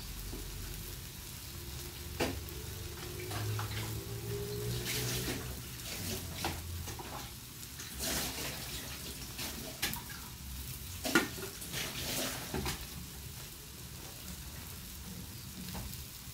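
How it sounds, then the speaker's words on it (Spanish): Dishes being washed by hand under a running kitchen tap, with a steady gentle water hiss punctuated by scattered clinks and knocks of crockery at close range. "Así es que hay que lavar los trastecitos que salieron."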